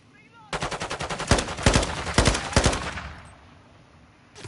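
Rapid automatic gunfire from Call of Duty Modern Warfare 2 multiplayer, loud and close, bursts of shots followed by a fading tail into quiet.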